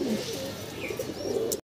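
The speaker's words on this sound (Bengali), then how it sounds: "গোল্লা কবুতর, কালারিং গোল্লা, খুব সুন্দর।" Pigeons of a fancy coloured breed coo softly in a small loft, a short run of low murmuring calls close by, with no talking.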